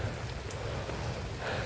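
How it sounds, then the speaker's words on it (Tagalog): Heavy rain pours down steadily outdoors as a dense, even hiss with no pauses, surrounding and fairly loud. "Naabutan kami ng ulan, malakas na ulan"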